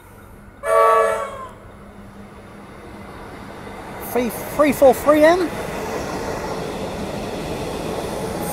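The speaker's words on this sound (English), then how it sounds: "This train is bound for Pakenham." A Comeng suburban electric train, an EDI-rebuilt set bound for Pakenham, runs through Armadale Station in Melbourne. One loud, short horn blast opens, then a steady broadband rumble of wheels and motors carries on while someone speaks briefly over it.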